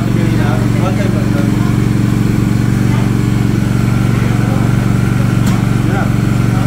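A 4200 inverter silent generator runs continuously, a steady droning hum with a low buzzing tone, close and even throughout, while people talk faintly in the background.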